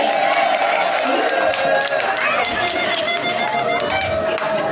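Church congregation at a bishop's ordination clapping and ululating, with sustained high trilling cries over a bed of crowd noise and chatter, loud and continuous.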